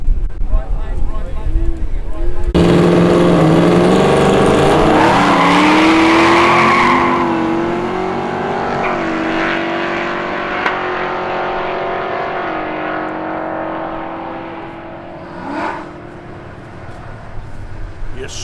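Modified muscle cars launch down an airstrip drag strip: a loud engine roar bursts in, rises through gear changes and fades into the distance, with wind buffeting the microphone.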